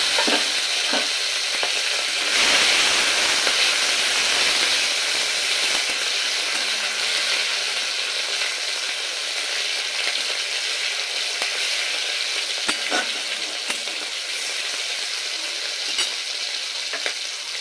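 Small chopped tomato drops into hot oil with reddened tempering spices and fries in a loud, continuous close sizzle, with occasional spatula taps and stirring scrapes; no one speaks.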